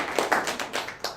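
Scattered hand claps from an audience welcoming panelists at a university forum on AI and education, a few uneven sharp claps over a moment.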